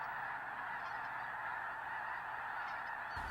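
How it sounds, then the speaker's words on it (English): A dense flock of geese honks continuously on migration toward Texas, a thick overlapping chorus of many calls holding steady throughout with no gaps. "Perhaps the most spectacular group of migrants are the millions of geese"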